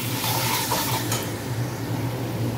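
Salt, white cumin powder and coriander powder being stirred into a sizzling frying pan, a steady close frying hiss with soft scraping of the spoon throughout and no talking.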